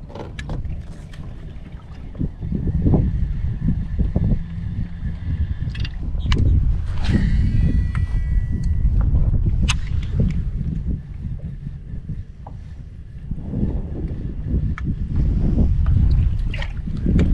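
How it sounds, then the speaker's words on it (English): Wind blows steadily over the microphone out on a fishing boat, with low rumbling gusts, faint water and boat noises, and occasional light knocks. "Got a good wind now."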